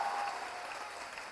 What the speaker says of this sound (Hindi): दोनों हाथ हवा में उठाकर जोरदार तालियां बजाओ